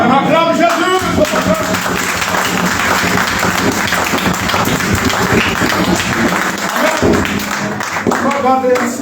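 A church congregation at a Sunday worship service applauds Jesus, sustained loud clapping from a crowd filling the room, with voices underneath.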